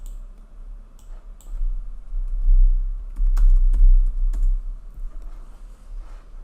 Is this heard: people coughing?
no